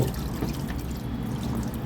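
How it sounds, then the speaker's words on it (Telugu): Water pours steadily into the drum of a washing machine during cleaning, a continuous close splashing trickle with no voices. "అలా రెండు మూడు సార్లు డ్రమ్లో నీళ్ళు పోయాలి"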